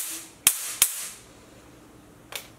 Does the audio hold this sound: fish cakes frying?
no